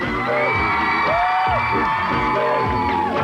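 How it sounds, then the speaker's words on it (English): A loud crowd cheers and whoops continuously, with excited shouts rising and falling throughout. "Give her a big round of applause, guys."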